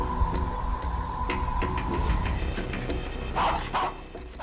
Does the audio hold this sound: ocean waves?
no